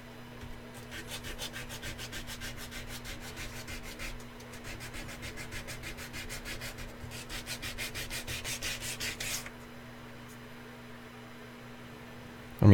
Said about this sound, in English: I can square it up with the file.